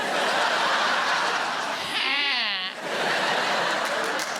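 A wavering, bleating goat-like voice rises briefly over a steady background murmur, quavering for about a second before fading.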